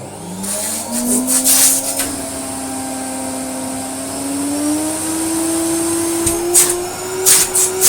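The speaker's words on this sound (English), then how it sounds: "Let's do some vacuuming." A Moulinex E59 vacuum cleaner runs steadily with a droning motor whine that slowly rises in pitch, with bursts of airy hiss from the suction, loud and close.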